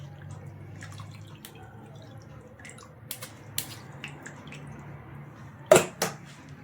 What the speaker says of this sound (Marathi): बघू शकता मी सगळा ज्यूस गाळून घेतलेला आहे